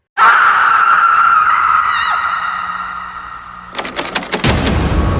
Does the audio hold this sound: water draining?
no